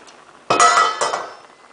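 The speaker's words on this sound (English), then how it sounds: "so I'm now going to remove the lid." A metal lid comes off a pot of Persian rice pudding (shir berenj), giving a sudden close clatter and ringing clink, then a short second knock as it is set down.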